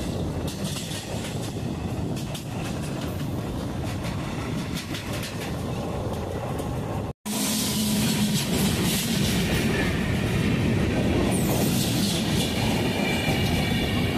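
Simhadri Express passenger train running between Duvvada and Anakapalli, heard from on board as a loud continuous rumble with rhythmic wheel clatter over rail joints and occasional squeals, sustained throughout.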